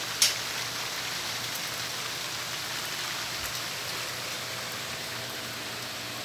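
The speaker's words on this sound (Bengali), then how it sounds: "দেখো আরো জোরে বৃষ্টি নেমে গেল।" Heavy rain pours steadily in a dense, even hiss, with one brief sharp tap near the start and no voices.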